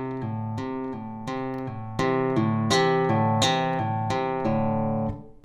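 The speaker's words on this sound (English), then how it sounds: "So I strike the string and I simply pull down on it and let go like that" Acoustic guitar plucking notes one after another, each picked note followed by a pull-off to a lower pitch, in a steady repeating pattern that rings out clearly.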